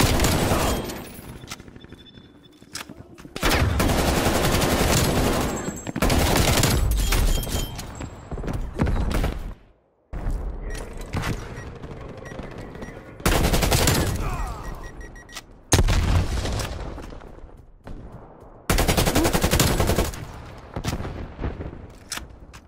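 A War Machine weapon firing in a video game, loud bursts of rapid heavy gunfire and explosive blasts in several long volleys separated by short quieter gaps, with sustained booming rumble throughout.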